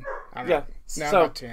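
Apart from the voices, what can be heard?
puppy barking in the background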